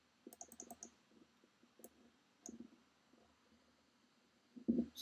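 Code being typed on a computer keyboard, quiet clusters of close, light key clicks coming in short bursts with pauses, and a louder thump near the end.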